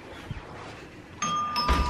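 A doorbell chimes at the entrance of an indoor swimming pool, a clear tonal ding ringing out over quiet room noise, followed by a soft thud.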